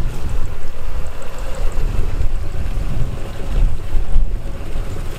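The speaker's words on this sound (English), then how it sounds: "So the water coming very strong into the drum." River water rushing strongly into the drum of a homemade free-energy water pump, a loud, steady churning roar with heavy low-end rumble and no talking.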